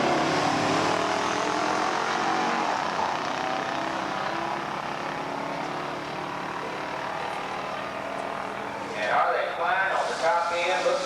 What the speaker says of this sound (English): So it's Corvette versus Dodge Hemi. Green light start for both racers.